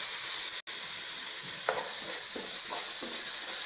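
Ginger paste sautéing with mint, coriander, chilli and garlic in a pan, a steady close sizzle broken by a brief dropout and several scraping spoon strokes.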